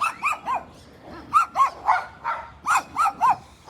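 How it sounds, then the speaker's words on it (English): Several dogs bark in short, sharp yaps spaced about a beat apart, moderately near and loud over a faint outdoor background. "I'll wait till I get past these dogs."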